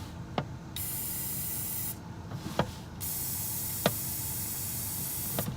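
Brake parts cleaner is sprayed from an aerosol can onto a bald-faced hornet nest outdoors, giving a steady close hiss in a few long bursts separated by short pauses, with faint clicks and rustles between.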